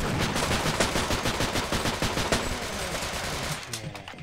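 A wind-up gun in the game They Hunger fires a fast, sustained burst of rapid shots, loud and dense, before trailing off near the end.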